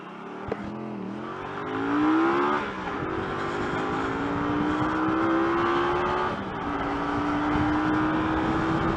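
A motorcycle engine holds a steady high-rev whine at about 10,000 rpm while cruising at 60 mph, loud and continuous with slight pitch shifts and wind rush.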